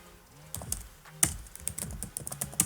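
Someone types on a computer keyboard, a quiet pause followed by a quick run of close, light key taps with a few sharper strokes.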